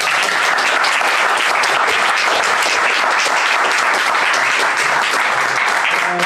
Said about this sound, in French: on peut s'applaudir les amis